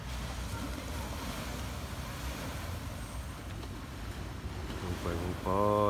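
Ocean waves breaking at a seaside, a continuous low wash of surf with wind noise on the microphone, fairly quiet, with a brief burst of voices near the end.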